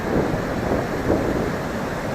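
River meltwater from Rakaposhi rushing beneath a bridge on a mountain trek, a steady, loud broadband roar of flowing water with no pauses, heard alone.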